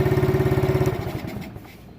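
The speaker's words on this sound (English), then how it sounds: "So in a pinch, how to start an ATV" A battery-less ATV with no starter runs after being spun up with a reverse drill, its engine thumping in a fast, even idle rhythm up close for about a second before sputtering and fading out.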